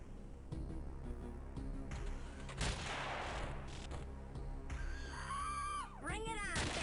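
Mortar fire and battle noise in the game X-piratez: repeated booming blasts and gunfire layered over a dense music bed, ending with rising and falling whistling tones as a shell flies and lands.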